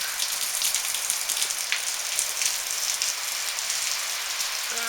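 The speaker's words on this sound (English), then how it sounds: "it looks like we got a rain squall coming through right now." Steady, heavy rain from a squall of Hurricane Irma in Stuart, Florida pours down, a dense continuous hiss of drops drumming on a surface, loud and unbroken throughout.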